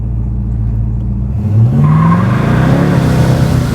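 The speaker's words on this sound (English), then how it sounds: "Looks like I melted the tire back there" A 1971 Oldsmobile Cutlass with a 455 engine revs hard as a tire spins and squeals, the pitch climbing, loud and close.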